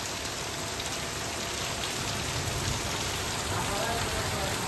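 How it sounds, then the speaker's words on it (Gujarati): Heavy rain falls steadily and loudly on a dragon fruit farm, a dense continuous patter with voices faintly audible beneath it. "વરસાદ તો જુઓ કેવો પડે છે"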